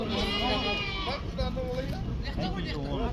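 Sheep and lambs bleat repeatedly at a busy livestock market in Kyzylorda, with wavering, overlapping calls close by over a constant murmur of crowd voices.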